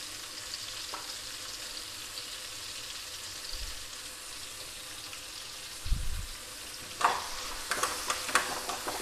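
Urad dal fritters (garelu) frying in hot oil with a steady low sizzle, broken by a few scraping stirs and clinks from around six seconds onward; no voices.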